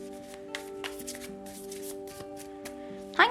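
Tarot cards shuffled up close in a quiet room, a soft continuous papery rustle with a few crisp flicks, ending in a louder brisk riffle, set against a faint steady tonal hum.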